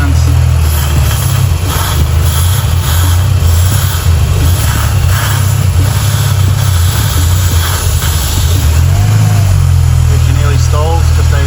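A Barra car engine idles loud and close while intake cleaner is sprayed into it, a steady low rumble with slight unevenness in its rhythm throughout.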